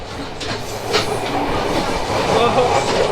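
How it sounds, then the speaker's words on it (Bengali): The Ruposhi Bangla Express from Dhaka to Benapole clatters along rough rails at good speed with rhythmic clickety-clack and rumbling, heard from inside a moving carriage, steady and fairly loud. "পাখা যে আমাদের ট্রেনের স্পিড মোটামুটি ভালোই আছে যদিও এই রেলটা ততটা ভালো না"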